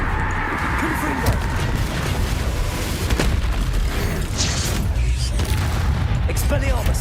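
Fiery Confringo blasting spells from the game Hogwarts Legacy burst in a dense, loud run of booming explosions and crackling debris that barely lets up, with a voice calling over the chaos.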